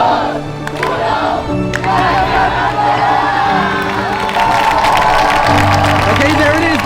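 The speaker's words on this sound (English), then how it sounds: "the Apple Store employees are already cheering" Apple Store employees cheer and whoop as a group before the iPhone 17 launch, a loud continuous crowd roar with clapping and overlapping talk close by.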